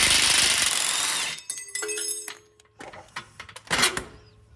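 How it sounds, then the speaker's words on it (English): Upper control arm bolt being loosened from the frame of a Jeep Wrangler JL with an 18mm socket, a harsh burst of rattling tool noise followed by scattered metallic clanks, ratcheting and clicks in a garage. "using an 18mm socket, I'm gonna remove the bolt securing the upper control arm to the frame"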